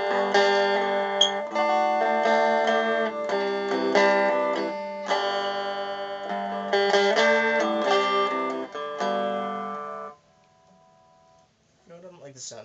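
Guitar played through a small, cheap practice amp, with chords ringing out in bursts for about ten seconds, then a near-silent gap and a brief return of strumming at the end.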